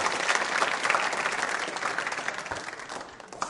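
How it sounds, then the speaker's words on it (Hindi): Applause from a school audience at a quiz show, brisk clapping from a moderate crowd that gradually thins and fades toward the end. "तालियां जोर से बजाइए इस जानकारी के लिए"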